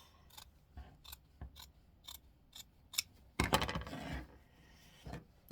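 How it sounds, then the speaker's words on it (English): Scissors cut through material for a garden boutonnière in a series of sharp, close snips, followed by a longer rustling cut, with quiet pauses between. "Cut that off."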